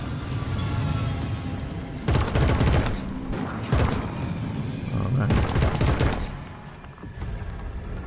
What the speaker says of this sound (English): burst fire works pretty well with this weapon